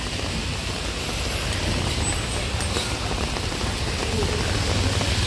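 Steady heavy rain pours onto a street of roadside shops in Jayanagar 4th Block, Bengaluru, a dense continuous hiss that stays close and even throughout, with faint traffic underneath.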